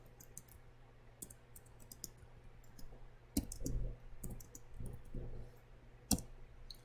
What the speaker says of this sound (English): On the 3rd line, we are typing the relevant information.